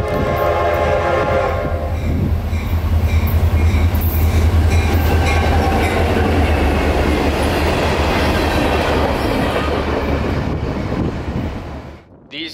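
A freight train hauling two covered hoppers full of feed passes close by, opening with a loud horn blast and then a continuous heavy rumble and rattle of wheels and cars.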